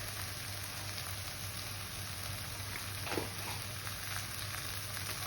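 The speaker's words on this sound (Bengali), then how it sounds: "এবার সমস্ত গুঁড়ো মশলাটা দিয়ে আমি এটা আবারও ভালোভাবে একটু কষিয়ে নেব" Ground cumin, coriander, Kashmiri chili and turmeric fry in oil for palak paneer, giving a steady, fairly soft sizzle throughout with a faint scrape of stirring partway through.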